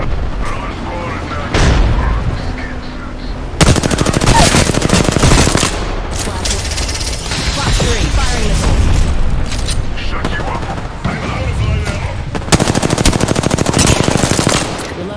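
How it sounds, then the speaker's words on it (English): Close, loud machine-gun fire and booming blasts from an Apex Legends battle break out in repeated dense bursts, with speech mixed in. "Enemy out there. Getting shot."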